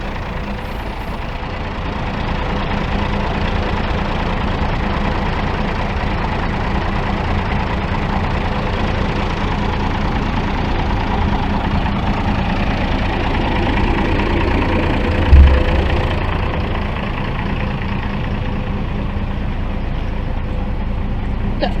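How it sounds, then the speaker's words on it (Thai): A large car-ferry raft engine drones steadily and loudly throughout, a constant low rumble with no break, on the Srinagarind Dam reservoir. "นี่ครับคือ เครื่องยนต์ที่ใช้ในการขับเคลื่อน แพขนานยนต์นะครับใหญ่โตมากเลยนะครับ"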